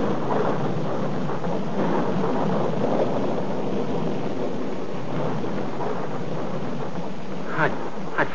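Steady rain hisses with a low thunder rumble underneath, a continuous wash of storm noise in an old radio drama, heard alone with a few faint thumps near the end.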